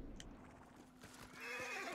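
A horse whinnies loudly in the open world of Ghost of Tsushima, a single drawn-out neigh with hoof clip-clops underneath, ending in a brighter, louder burst of game noise.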